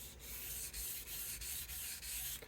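A Rickenbacker guitar body is sanded by hand with 320 grit sandpaper, quiet rhythmic back-and-forth rubbing strokes, about seven even passes, close up with no talking.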